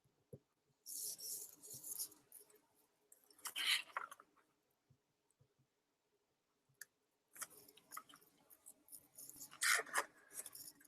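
Adhesive backing peeled away from a paper craft piece, giving a close, crackly tearing rustle in several separate bursts with short quiet gaps between them.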